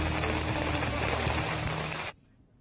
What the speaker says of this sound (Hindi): बारिश भी हो रही है, बर्फ भी पड़ रही है